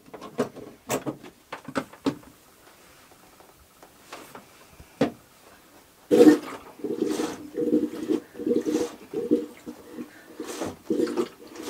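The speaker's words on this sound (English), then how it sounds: "I can fill up the toilet like this, and I'll flush the water down that way" Fresh water flushed through a sailboat's marine toilet with a joker valve, heard as scattered clicks and knocks at first, then a louder stretch of rushing, gurgling pulses close by with no voices.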